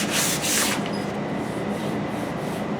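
Sandpaper rubbing along a new wooden axe handle, a steady, close, scratchy rasp with a couple of stronger strokes at the start, heard alone.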